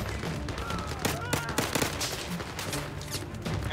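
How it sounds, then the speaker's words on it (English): Rapid gunfire in a VR shooter game, with dense bursts and single shots from several weapons firing over one another in a chaotic battle. "There's so much gunfire."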